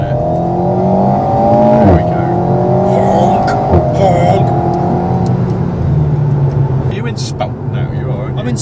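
An Alpine A110's turbocharged four-cylinder engine drones steadily on the road, with a few brief exhaust crackles and pops, heard from inside the car beneath continuous talking.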